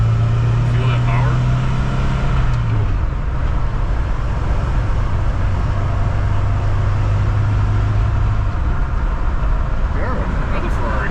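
A rare Ford Aerostar van drives along, its engine a steady low drone with road noise throughout, while someone talks over it from inside the cabin.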